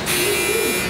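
A convection oven's kitchen timer goes off with a steady, unbroken electronic buzz that holds at an even level for almost a second.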